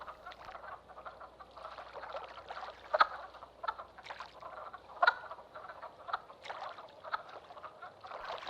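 Wood frogs fresh from hibernation calling at forest spawning pools in spring in Shenandoah, a soft chorus of repeated clucking croaks with a few louder, nearer calls standing out from the steady murmur.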